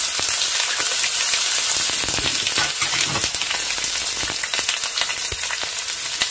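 Chana dal, urad dal, curry leaves and onion frying in hot oil, a dense, steady sizzle and crackle that runs loud and close throughout with no voices.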